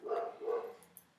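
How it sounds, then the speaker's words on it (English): A pet dog barks twice in another room of a house, short muffled woofs at moderate volume with no voices. "Sorry about the dog barking."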